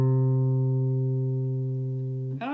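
A single electric guitar note, plucked softly on the second string and played through an amplifier, rings out steady and sustained for over two seconds before a faint scrape of fingers or string noise at the end.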